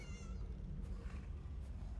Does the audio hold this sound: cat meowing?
yes